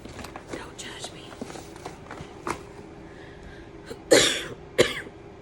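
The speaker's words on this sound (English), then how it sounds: "don't worry about me coughing" A woman coughing during a makeup session: two sharp, close coughs near the end, after quiet whispering and soft handling noises.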